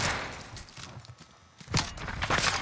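Gunfire in a first-person shooter video game, shots punching through a wall: rapid bursts of automatic fire, loud and close, easing briefly midway before another burst.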